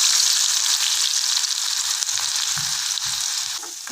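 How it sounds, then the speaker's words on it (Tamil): Crushed garlic and broken dried red chillies fry in hot oil with popped mustard seeds and cumin for a greens kuzhambu tempering, giving a loud, steady close sizzle with small crackles and a slight fade at the end. "கடுகு பொரிஞ்சதும் இடித்து வச்சுருக்க பூண்டையும் கிள்ளி வச்சுருக்க வரமிளகாவையும் சேர்த்துக்கலாம்."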